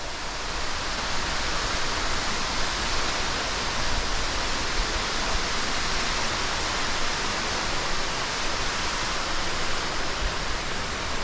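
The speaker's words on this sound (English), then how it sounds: "That waterfall." A 280-foot waterfall thunders deep inside a cave, a dense, steady roar of crashing water that fills the space without pause for the whole stretch, with no voices over it.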